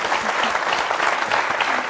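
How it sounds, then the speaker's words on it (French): Studio audience applauding a contestant's win on a French TV quiz show, a dense, steady wash of many hands clapping at full, even loudness throughout. "on vous applaudit, on vous félicite"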